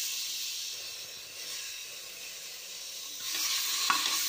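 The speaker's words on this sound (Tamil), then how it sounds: "தக்காளி போட்டு நல்லா வதக்கியாச்சு." Tomatoes sizzling in hot oil as they are sautéed for a chicken soup, a steady broadband hiss and crackle with a slight stir near the end, close and alone.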